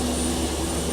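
Jet engine winding up in the Prepar3D flight simulator, engine number one on start, a steady dense roar with a sustained whine, loud and continuous through the short moment.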